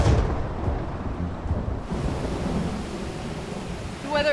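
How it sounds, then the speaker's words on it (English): Deep rumbling thunder rolls over heavy rain in a jungle valley, with a dense, continuous wash of downpour close by. "I think we've got some thunder and lightning and some very heavy rain on the way."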